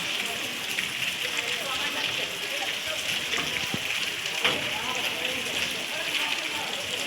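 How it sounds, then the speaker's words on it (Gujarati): Rain falls steadily in sunshine near a temple, a dense even patter on surfaces that runs for the whole stretch, with a few faint knocks and people talking quietly underneath. "તડકામાં વરસાદ ચાલુ છે"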